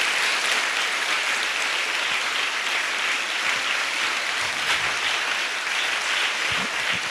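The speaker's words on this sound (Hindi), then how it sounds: "ऊपर ताली बजाएंगे यीशु की महिमा के लिए" Congregation clapping in praise of Jesus at a Hindi worship gathering: dense, steady applause from many hands, loud and continuous throughout with no talking.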